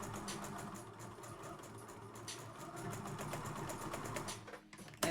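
A sewing machine stitches fabric for a kid's dress in a steady, continuous mechanical whir at close range, running without pause until a brief stop and clunk at the very end.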